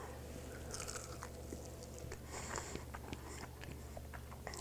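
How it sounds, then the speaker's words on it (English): Biting into a crunchy, dark barbecue chicken wing smoked on a Green Mountain Grills Davy Crockett pellet grill, with close-up crisp crunches followed by repeated chewing crackles and no talking. "Let's go ahead and bite into one of these and see how they are."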